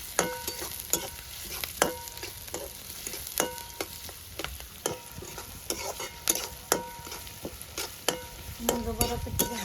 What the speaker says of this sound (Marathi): हो, कांदा परतून घ्यायचा